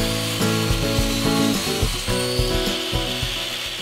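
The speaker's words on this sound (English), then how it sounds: "that's where I'll cut the board to length" Handsaw cutting a wooden board to length in a shop, a steady rasping stroke rhythm of repeated back-and-forth pulls, close and fairly loud with no voices.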